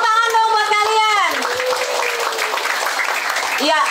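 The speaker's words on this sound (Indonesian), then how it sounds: "Tepuk tangan dong buat kalian." Children at an English and character camp applaud, a broad wash of clapping that swells after a voice speaks at the start, with a brief vocal sound near the end.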